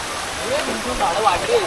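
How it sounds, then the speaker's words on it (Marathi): Rain falls outdoors on a high, rocky hillside, a steady soft hiss throughout with a few brief gliding tonal sounds rising over it partway through. "आणि नशीब बाबा पाऊस आला"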